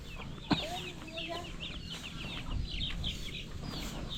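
A mother hen clucks softly among her chicks, a scatter of high peeping chirps and low clucks close by, over quiet farmyard background with a brief sharp knock near the start.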